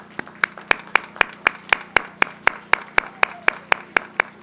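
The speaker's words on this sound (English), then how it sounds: "Parents, friends, family, please stand and be applauded." Applause at a university commencement ceremony comes through as sharp, evenly spaced claps in a steady, brisk rhythm, close and distinct rather than a diffuse crowd wash.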